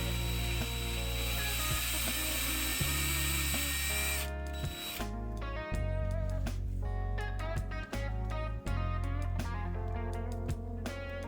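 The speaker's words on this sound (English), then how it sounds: "Being this was my first time with the end mill, I stopped a few times just to make sure the magnets were flush with the bottom." End mill drilling magnet holes into painted resin miniatures: a loud, high whirring motor with a dense spinning drone, cut by several brief stops and restarts, heard alone and close.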